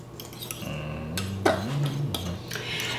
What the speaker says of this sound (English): So you have a mess of olive oil, mayonnaise, mustard, salt. And it's all gonna get stirred up now.